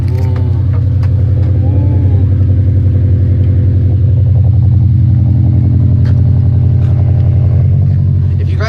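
A brand-new Subaru STI with a fresh exhaust droning at a steady low rumble, loud and close, continuous throughout with faint voices underneath.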